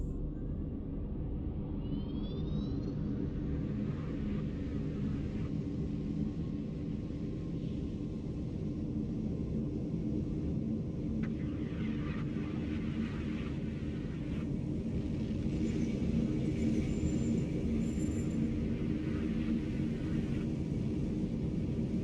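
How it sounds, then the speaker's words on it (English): Spaceship afterburner in the space game EVE Online, a deep, steady engine rumble with a faint rising whoosh at the start, droning on without a break at moderate level. "guess I should activate my afterburner"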